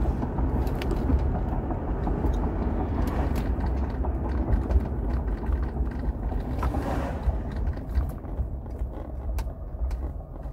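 A 1999 Mercury Grand Marquis cruising on a highway with a fresh rear shock replacement: steady low road rumble and tire drone inside the cabin, plus wind noise, continuous and fairly loud, with no one speaking.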